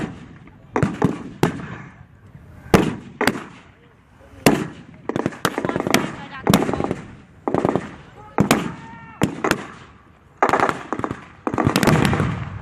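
Sharp rifle shots crack out again and again at a World War 2 reenactment battle, loud and close, in an irregular string of reports with brief gaps, some overlapping, each with a short echoing tail.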